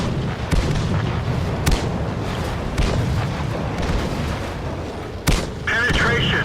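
Tank cannon fire in the World of Tanks game, M24 Chaffee light tank match: several sharp booming shots at irregular intervals over a steady dense rumble of battle noise, with game sounds throughout.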